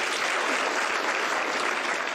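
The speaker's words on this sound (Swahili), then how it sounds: "But makofi tafadhali." An outdoor crowd at a housing groundbreaking ceremony with President Ruto in Mavoko, Machakos applauds in a dense, continuous wash of clapping, loud and even throughout.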